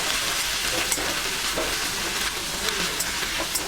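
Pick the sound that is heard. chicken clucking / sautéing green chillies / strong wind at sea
sautéing green chillies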